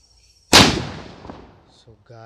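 A single sharp, loud Diwali firecracker blast, its rumble fading over about a second and a half before a voice starts to speak.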